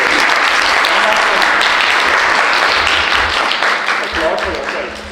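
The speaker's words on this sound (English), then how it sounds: "applaud for yourself" A room full of college students in an audience bursts into loud, dense applause that holds steady and then begins to fade at the end.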